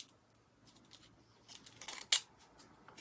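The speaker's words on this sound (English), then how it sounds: "Snip those edges off." Jewelry-making snippers cutting the jagged edge of an aluminum can, a few faint snips building to one sharp, bright metallic cut, close and otherwise quiet.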